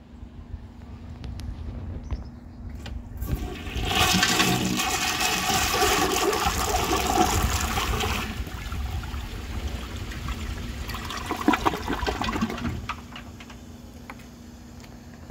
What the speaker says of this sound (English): Now, let's give this a flush.